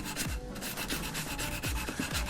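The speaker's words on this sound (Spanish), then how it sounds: "a las superficies siempre hay que darles un puntito de lija para que queden finas" Sandpaper rubs across a surface being prepared for acrylic paint, steady rasping strokes repeating in a quick back-and-forth rhythm, close and continuous with no talking.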